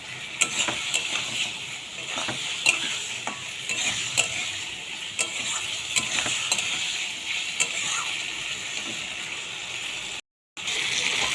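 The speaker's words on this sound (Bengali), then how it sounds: "আলুগুলোকে 5 মিনিট কষিয়ে নেব" Potato pieces sauté in hot oil for a Bengali rohu fish curry, with a steady sizzle broken by frequent scraping stirs of a spatula throughout and a brief silent gap near the end.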